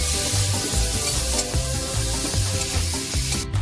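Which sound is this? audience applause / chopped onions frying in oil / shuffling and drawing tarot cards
chopped onions frying in oil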